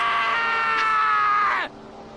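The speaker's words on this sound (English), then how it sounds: "I heard screaming!" A scream in the video game Danganronpa, one loud, sustained high-pitched cry held for about a second and a half, then cut off abruptly, leaving quiet.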